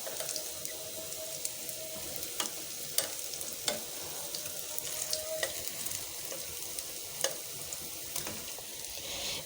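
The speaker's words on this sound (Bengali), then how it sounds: "এটা কিন্তু একটু সময় নিয়ে ভাজতে হবে, যেহেতু ভরভরিটা সম্পূর্ণটাই কাঁচা" Raw borboti bean fritters (peyaju chop) frying in hot oil, a steady close sizzle with occasional sharper pops and crackles throughout, no voices.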